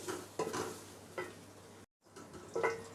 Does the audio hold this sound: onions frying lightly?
yes